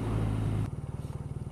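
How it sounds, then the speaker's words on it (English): A 2014 BMW R nineT motorcycle engine idles close by with a steady, rhythmic low pulsing, preceded by a brief louder rumble that cuts off abruptly before the even throb continues. "as I'm sitting on this and just hearing or feeling the engine just kind of rocking, it's a very special feeling"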